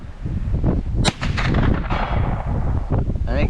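Shots from a 16-inch Glock pistol in 10mm fired outdoors, several sharp cracks in quick succession with wind buffeting the microphone and a voice faintly in the background.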